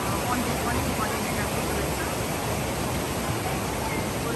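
A river flows steadily past its bank with a constant, dense rushing wash of water that stays loud and even throughout, with no breaks.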